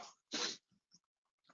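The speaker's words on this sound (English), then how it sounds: "Sorry, I have to sneeze." A single loud sneeze bursts out near the mic, with a short intake of breath before it and a few faint breathy sounds and sniffs after.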